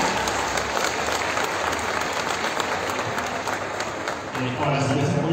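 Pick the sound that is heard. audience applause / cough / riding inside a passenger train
audience applause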